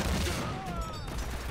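Gunfire at a barrel in Uncharted: Drake's Fortune, a dense, sustained burst of shots and crashing impacts filling the whole stretch, loud and close with a faint whistling tone passing through.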